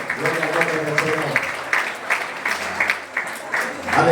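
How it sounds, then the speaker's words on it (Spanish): Church congregation applauding loudly during a Spanish-language evangelical service, steady dense clapping over several seconds with voices mixed in. "Den un aplauso fuerte al Rey del cielo"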